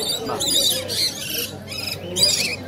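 Several pet birds in a market, including lutino and black pied birds, chirp and squawk in short bursts, close by, with a faint voice in the background.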